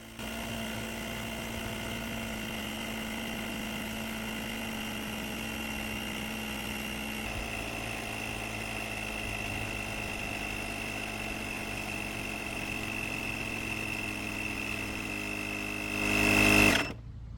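A portable air compressor inflates a tire toward 35 PSI, a steady loud mechanical drone with a constant whine. The pitch shifts partway through and the motor stops abruptly near the end.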